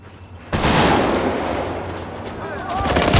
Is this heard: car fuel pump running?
no